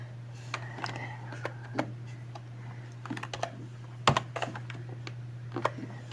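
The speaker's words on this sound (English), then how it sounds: "I am going to type ls space dash al" Keys click on a computer keyboard as a Linux command is typed, with scattered, irregular taps close by, one sharper cluster near the middle, and a steady low hum underneath.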